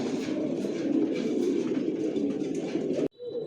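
Adult racing pigeons in a home loft coo together in a dense, continuous low murmur of overlapping calls close by, cut off abruptly near the end.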